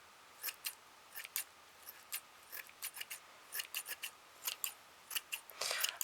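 Scissors snipping tulle to trim a homemade pompom, a series of crisp close snips, some single and some in quick pairs, set against a quiet room.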